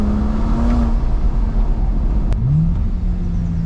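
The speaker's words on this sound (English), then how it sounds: "Little first gear downshift there." Close, loud engine drone inside the cabin of a BMW 335i, with the revs dropping then climbing sharply as the gearbox shifts down into first gear.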